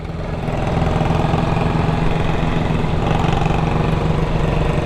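A motorcycle engine idles close by, loud and steady, with a dense, even rumble that holds throughout after a quick rise at the start; no voices are heard.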